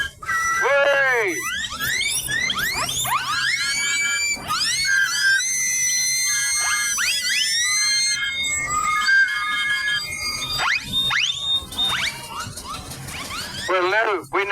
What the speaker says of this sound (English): Sound your whistles.